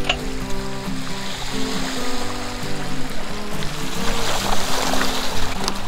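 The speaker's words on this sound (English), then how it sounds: "Oh, look at that waterfall." Steady rushing water roars continuously, broad and fairly loud, with a low engine-like hum running underneath.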